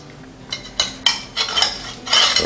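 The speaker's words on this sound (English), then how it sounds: "Make sure I cut through all that crust." A knife cuts through a slice of crispy pecan pie crust baked in a NuWave Primo grill oven, with a run of sharp crunching and scraping bursts, close and fairly loud, several separate strokes with no talking.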